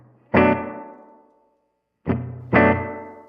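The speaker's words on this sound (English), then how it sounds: "In Reverb B, I'm going to create my spring reverb effect." Guitar notes through the spring reverb setting of a Ventris Dual Reverb pedal: one struck note rings out and decays in a long splashy tail, then after a pause two more plucks follow in quick succession, loud and alone.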